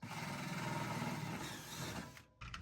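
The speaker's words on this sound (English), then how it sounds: "drilling upward into hot aluminum" Power drill boring upward into an aluminum pontoon boat channel, a steady loud motor whine with a rattling low chatter that runs continuously for about two seconds, then cuts out briefly before starting again.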